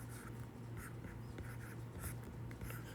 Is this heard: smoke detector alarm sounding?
no